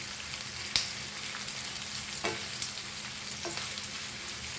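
Food sizzles in hot oil for dal gosht (lamb with lentils), frying until crispy golden brown: a faint, steady crackling hiss with a few sharp pops scattered through it, no voices.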